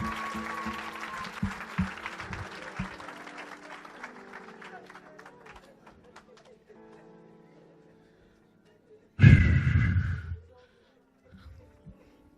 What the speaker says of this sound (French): Give a hand clap to God.